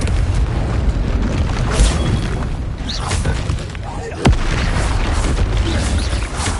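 Repeated booming blasts from the Confringo spell in Hogwarts Legacy, dense and loud, with one sharp crack standing out among continuous explosive rumble and spell-casting voices.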